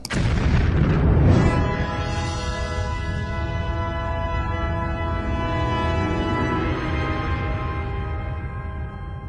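Bomb explosion sound effect: a loud, heavy boom bursts at the start, then a long roaring rumble with a ringing tonal tail fades slowly over several seconds, alone without voices.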